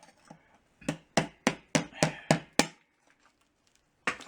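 Sharp hammer-driven chisel strikes knock a rusted part off a 1989 Whirlpool washer, seven loud, close blows at a steady rhythm followed by a pause and one more hit.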